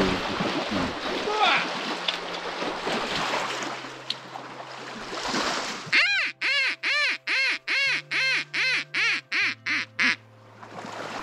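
Duck call or decoy quacking in a rhythmic series of about a dozen loud, close nasal quacks during a duck hunt, following a stretch of outdoor background noise.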